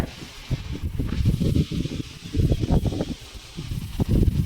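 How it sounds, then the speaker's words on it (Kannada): Strong wind blowing through a village during rainy weather, a rough, gusty roar and rustle that surges and dips throughout, loud and close with no talk. "ಗಾಳಿಗೆ ಫುಲ್ ಗಾಳಿ ಐತೆ"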